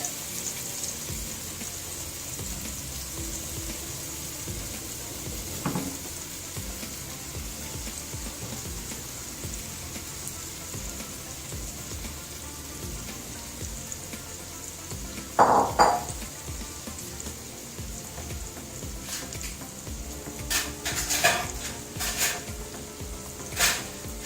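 Paneer cubes frying crisp in a pan for dhaba-style paneer masala, a soft continuous sizzle with occasional clinks and scrapes of a spoon turning the pieces, growing busier toward the end.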